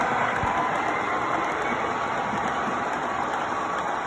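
Model trains run on a home layout with a continuous, even rumbling whir close by, holding a steady level throughout and with no speech.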